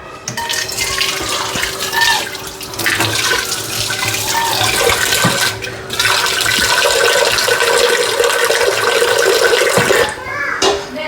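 Used washing water is poured out into a basin, a continuous splashing gush that swells and breaks off in bursts over several seconds, close by.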